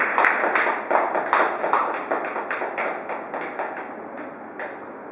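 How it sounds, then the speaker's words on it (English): Audience at a stand-up comedy gig clapping, a steady dense applause that is loud at first and gradually thins and fades over several seconds, no talking. "A big round of applause for all of you."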